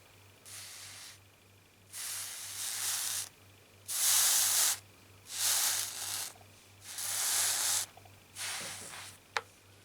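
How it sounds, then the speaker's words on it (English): Hot steam iron touched to a wet cloth laid over a knitted panel, giving five or six separate bursts of hissing steam, each lasting about a second, over a steady low hum. "Don't press, just touch it to the cloth to release the steam."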